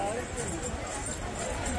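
Horse hooves clip-clop steadily along the crowded pilgrimage path to Vaishno Devi while a rider sits on the horse, the footfalls blending into a busy outdoor bed of voices and talk throughout.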